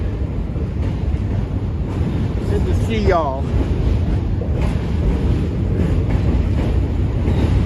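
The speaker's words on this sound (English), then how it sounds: "That's another Q train. Back-to-back Q trains." New York City subway Q train rumbling past outdoors, a loud continuous low roar with wind buffeting the microphone and a brief rising screech, while someone talks over it.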